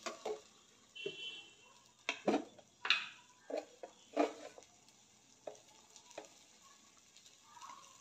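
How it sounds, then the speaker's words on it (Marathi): Sweet corn sautés in hot oil in a home kitchen pan, giving soft sizzling with repeated spoon stirs and scrapes. The scrapes come in irregular bursts over a quiet background. "तर हे चांगलं परतून घेऊया तेलामध्ये"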